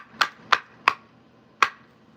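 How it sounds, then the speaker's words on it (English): Pieces of seasoned hardwood knocking together outdoors as four sharp, hollow wooden clacks, three in quick succession and then one after a pause, close and clear over quiet surroundings. "this is the sound of seasoned hardwood"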